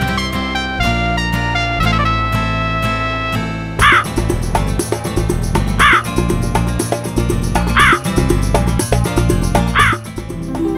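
A crow caws several times in short, bright, repeated calls over loud, busy instrumental music that runs throughout.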